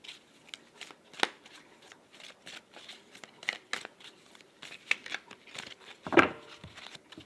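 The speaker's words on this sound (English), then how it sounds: "I'm being told to shuffle differently." Tarot or oracle cards are shuffled during a card reading, giving quiet, close riffling and flicking bursts in an uneven rhythm, each lasting a fraction of a second, with a slightly louder shuffle near the end.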